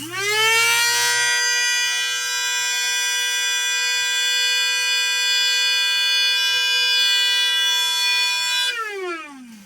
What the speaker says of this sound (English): Now I'm going to go ahead and grind it a little bit more